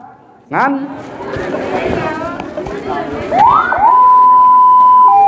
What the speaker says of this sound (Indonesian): Inilah bunyi ambulan yang sesungguhnya.